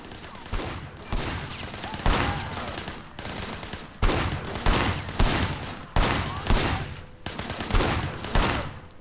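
Bursts of gunfire from the video game Sleeping Dogs crack out in loud, repeated volleys, clustered shots separated by short gaps across the whole stretch.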